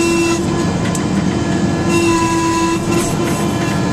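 A radio-controlled toy tractor runs steadily, its small electric motor giving a continuous tonal whine with a droning hum, loud and close throughout with no talking.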